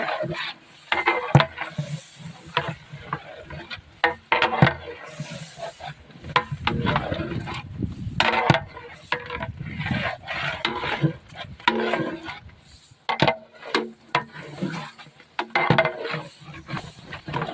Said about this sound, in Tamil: உப்பு சேர்த்துட்டு நம்ம கிளறி விட்டுடலாம்.